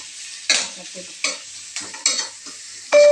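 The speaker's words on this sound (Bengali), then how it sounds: "আমার পেঁয়াজ লঙ্কাগুলো লাল করে ভাজা হয়ে গেছে" Sliced onion and green chillies frying in a pan, a loud continuous sizzle with repeated stirring scrapes every half second or so, ending in a short metallic clang.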